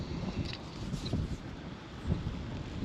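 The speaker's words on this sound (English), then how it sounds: "It's always breezy, super windy." Steady wind rumbles and buffets across the whole stretch, a low broadband roar with gusty swells, no voices.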